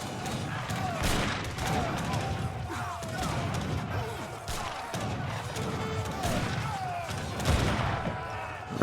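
Falconet cannons fire in a real-time strategy game battle, with dense overlapping booms and crashes over constant clashing combat noise and game music.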